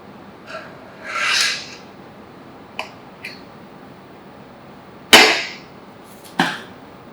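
Kitchen knife cutting away excess puff pastry around a duck confit pie: several short, close scraping strokes with gaps between them, one longer drawn-out rasp early on and two sharper cuts near the end, no talking.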